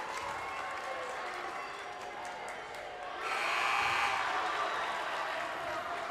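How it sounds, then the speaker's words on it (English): Fans at a high school boys basketball game cheer and applaud, starting as a moderate murmur of claps and shouts, then swelling louder about halfway through, with faint background voices mixed in. "South's fans just cheering."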